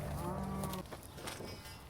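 A Guernsey dairy cow on an organic dairy farm gives a single short low moo, fairly close, over steady outdoor wind and background noise.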